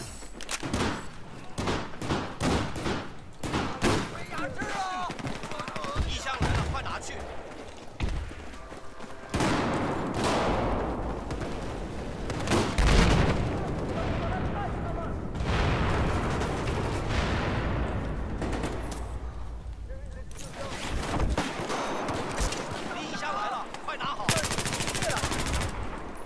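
Gunfire in the game Battlefield 4 crackles in dense, rapid automatic bursts and heavy shots nearly nonstop, loud and close, with occasional thuds and bangs.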